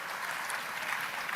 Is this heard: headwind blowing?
no